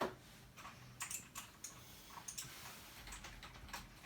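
Quiet, irregular tapping of keys on a computer keyboard, bursts of clicks spread across a few seconds with pauses between, no talking.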